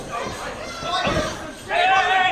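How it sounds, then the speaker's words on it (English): A wrestler is slammed face first onto the mat during a tag team pro wrestling match, a dull heavy thud landing amid crowd noise and a commentator's voice, followed by a rising roar from the audience. "Slamming down, Jamesen shook face first into the mat, maintaining that waist control."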